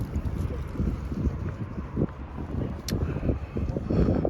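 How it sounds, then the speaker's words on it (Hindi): Strong, cold wind gusting at Belgrade Fortress above the river, a steady rumbling buffet across the microphone with irregular surges, heard alone without talk. "इधर बहुत तेज़ हवा लग रही है, बहुत ठंडी।"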